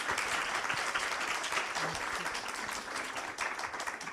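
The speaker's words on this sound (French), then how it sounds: "Et oui, je crois que ça s'applaudit." Audience at a conference round table applauds steadily throughout, a dense, even wash of clapping from a crowd in a hall, with a faint murmur underneath.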